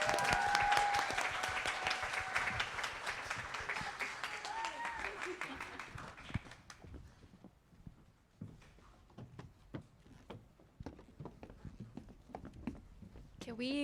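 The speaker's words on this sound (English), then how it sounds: "Can we clap again for them," Audience clapping at a community arts event in a museum, warm and full for several seconds, then thinning out into scattered individual claps spaced apart as the applause dies away.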